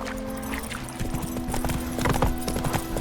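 Roach, Geralt's horse in The Witcher 3, trots along with a steady clip-clop of hooves over a constant low game-world hum, the hoofbeats growing a bit louder and busier toward the end.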